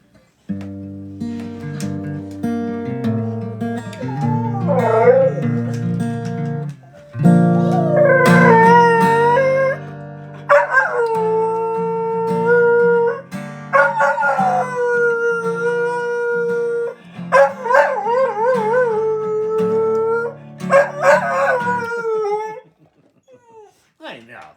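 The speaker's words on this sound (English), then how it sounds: "you're such a good singing dog" A pet dog howls along in long, rising and falling, wavering notes, loud and close, in several drawn-out bursts with short pauses and a voice speaking at times.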